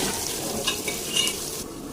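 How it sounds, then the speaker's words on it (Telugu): Chicken pieces with chili powder, salt and chicken masala are stirred in a sizzling pan for chicken biryani, a steady frying hiss with soft scraping strokes of the spoon, close and without speech. "చికెన్ మసాలా మొత్తం కలుపుకోవాలి"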